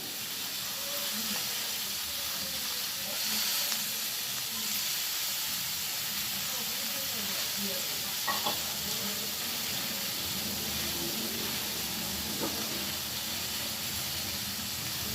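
Spinach stems frying in a pan for a Bengali spinach-stem chorchori, giving a steady, broadband sizzling hiss that holds throughout, with a few faint clinks and no voices.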